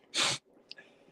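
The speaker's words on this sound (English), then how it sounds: "It would just be this nasty, slobbery mess of sneezing." A single sharp, explosive sneeze bursts out close to the microphone, followed by a brief sniff and quiet breathing.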